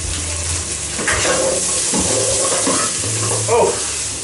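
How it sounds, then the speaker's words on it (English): Onions frying and browning in a pan for a beef stew, a loud close sizzle with stirring and some watery, tap-like rushing blended in, continuous throughout without talking. "Yeah, onions are browning nicely."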